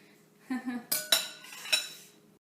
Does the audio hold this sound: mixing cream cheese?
yes